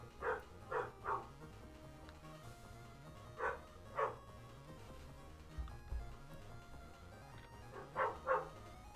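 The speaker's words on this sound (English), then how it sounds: "And dog barking." A dog barks in short clusters of two or three, fairly close and distinct, with quiet game background between the bursts and no talking.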